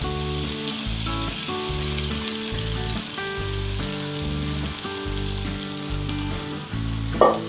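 Paneer thalipeeth fries on a hot griddle with oil added around its edges, giving a steady broadband sizzle that lasts the whole stretch, while melodic background music plays prominently over it.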